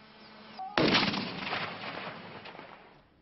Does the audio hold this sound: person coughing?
no